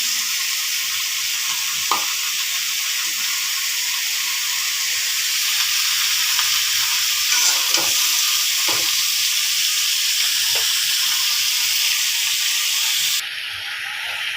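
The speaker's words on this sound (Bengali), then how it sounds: "এ পর্যায়ে যে ধুন্দুলগুলো ভাজা হলো" Pieces of ridge gourd fry in a pan with a little ginger-garlic paste, giving a continuous bright sizzle and hiss. Occasional soft scrapes and stirs sound through it, and the sizzle drops slightly at the very end.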